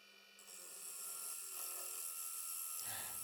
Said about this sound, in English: For the finishing cut, I use a shear cut tool. And with a very light cut, you can almost make a perfect finish.